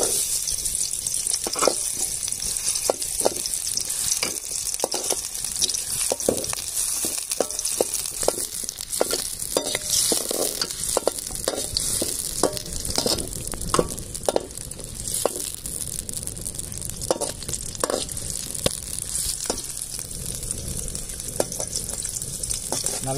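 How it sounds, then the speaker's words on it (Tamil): Onions sizzle and fry in hot oil in a pan for a village-style crab gravy, a steady crackle broken by repeated scraping stirs of a spatula. "நல்லா வெங்காயம் பொன்னிறமாக வதக்கிற வரலாம், வதக்கினே இருங்க"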